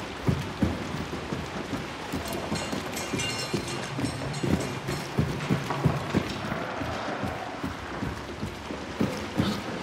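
Steady rain in the video game Hunt: Showdown, a dense hiss of drops with rapid patters and knocks scattered throughout, continuous and fairly loud with no talk.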